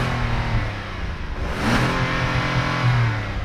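Engine of a 2022 Kia Carnival minivan heard from outside, a steady mid-pitched hum that swells briefly in a modest rev, fairly close and continuous with no talking.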